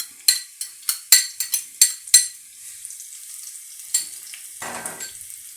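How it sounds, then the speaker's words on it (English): White onions frying in a pan, with a rapid run of sharp utensil knocks and scrapes against the pan at first, then a softer continuous sizzle with an occasional clink. "And I'm just gonna cook my onion a bit."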